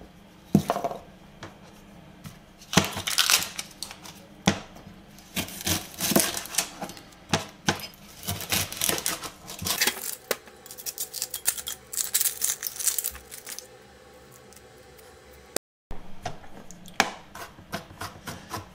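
Onions and bell pepper chopped with a knife on a cutting board, crisp rapid clacking strokes in uneven bursts with brief pauses between runs, close and fairly loud, with no talk.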